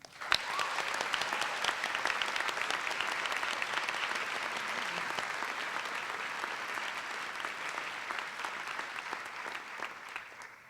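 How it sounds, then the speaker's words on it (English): Steady applause from an audience at a school honors convocation, continuous and moderately distant, holding evenly for about ten seconds before tapering slightly. "let's please have a round of applause for Beth Wilkins"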